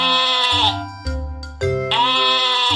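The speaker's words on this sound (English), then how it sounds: "My name is Sheep. Bah!" A sheep bleats twice, a wavering, nasal call at the start and another near the end, loud and close over steady backing tones in a children's animal-sounds piece.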